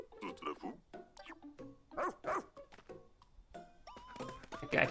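A cartoonish dog in the video game Pikmin 4 gives short yips and barks in scattered bursts, mixed with playful game sounds and rising tonal chirps at fairly close range.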